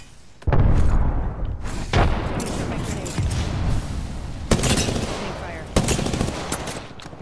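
A frag grenade bursts in a first-person shooter game, with a loud boom followed by sustained rapid gunfire and further sharp blasts, while players talk over the combat.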